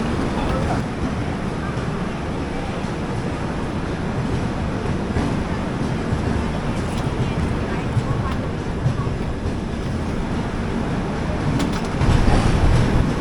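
The Humsafar Express pulls out of Mangalore Junction, heard from inside the coach as a steady, loud low rumble and wheel roar with faint clatter, continuous and unbroken.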